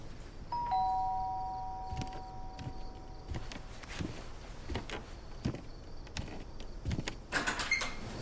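Doorbell ringing at home with a brief two-tone chime near the start, followed by faint scattered clicks and footsteps.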